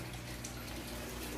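Water pours steadily out of a pipe buried beside a crayfish pond, a continuous close rushing and splashing with no break.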